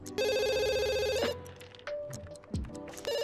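A telephone rings in a life-simulation video game with a loud, steady electronic trill lasting over a second, then a pause with faint background noises before the ringing starts again.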